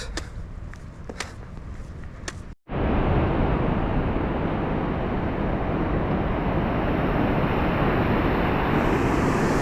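A swollen Aragvi river rushes in a loud, steady roar of water that starts abruptly after a brief quieter stretch and continues unbroken to the end.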